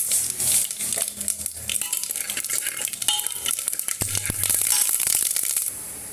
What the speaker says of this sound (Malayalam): ഇച്ചിരി വെളിച്ചെണ്ണ ഒഴിച്ച് അത് കടുക് വറുക്കാനുള്ള നോക്കാം നമുക്കിതിലേക്ക് കടുക് ഇട്ട്